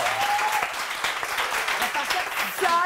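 Steady, dense studio audience applause on a morning television show, a continuous wash of clapping with a voice speaking faintly over it.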